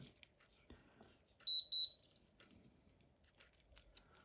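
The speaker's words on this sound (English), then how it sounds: "all these alarms that are going off, it's not this watch" Casio digital watch alarms from a large collection go off as three quick clusters of shrill electronic beeps, close and clear against an otherwise near-silent room.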